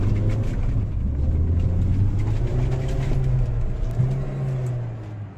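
Car with an old engine being drifted, heard as a steady low engine drone with slowly rising and falling pitch, loud and continuous without talking.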